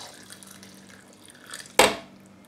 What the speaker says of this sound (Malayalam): ഇനി ഇതിലേക്ക് 1/4 ഗ്ലാസ് വെള്ളം ഒഴിച്ചു കൊടുക്കാം.